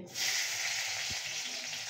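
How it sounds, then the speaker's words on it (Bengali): Chopped green chillies hit hot ghee in a wok and set off a sudden, steady sizzle that stays loud and close, with a soft knock partway through and no one speaking. "মা কড়াইয়ে ঘি দিয়েছে, দিয়ে ফার্স্টে কাঁচা লঙ্কা কুচি দিচ্ছে।"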